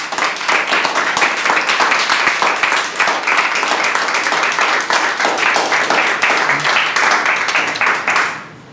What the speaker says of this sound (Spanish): Vamos, dale palmas al Rey.